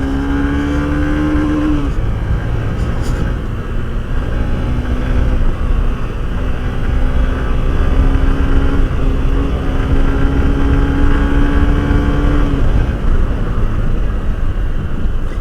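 Honda SP 125 commuter motorcycle engine pulling hard and accelerating on a road, a steady loud drone with rising whining tone and strong wind rush throughout, no talking.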